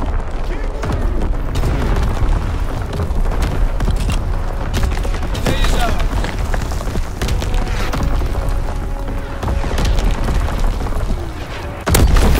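In the Call of Duty: WWII video game, on the Shipment 1944 map in team deathmatch, a grenade blast lands among dense booming gunfire and battle noise, with game voices calling out over the loud, continuous combat.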